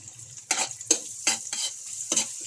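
Butter, onion and garlic sizzle softly in a pan for carbonara, broken by four or five distinct scraping stirs of a utensil against the pan.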